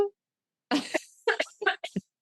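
A sharp cough at the very start, then a pause before a run of short throaty bursts and clearing sounds, close to the microphone.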